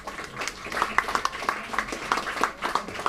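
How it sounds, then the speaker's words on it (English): Light applause from a small audience at the 2018 Mind Sports Olympiad award ceremony, scattered hand claps in an uneven rhythm, fairly close, with murmured voices beneath. "let's give another round of applause to our champions"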